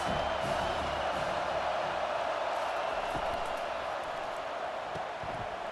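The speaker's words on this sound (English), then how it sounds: "This crowd trying to make life miserable for this offense." Steady, dense roar of a college football stadium crowd at an Alabama Crimson Tide versus Arkansas Razorbacks game, holding at an even, unbroken level throughout with faint thumps underneath.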